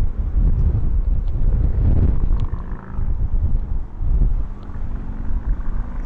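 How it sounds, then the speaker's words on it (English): Strong wind gusting across a rooftop and buffeting the microphone, a loud continuous low rumble that swells and eases, with no voices. "It's very windy out here on the roof."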